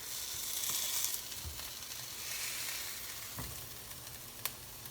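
Veggie burgers sizzling softly in a pan after being flipped, a faint, steady frying hiss with a few small pops and a light utensil tap near the end.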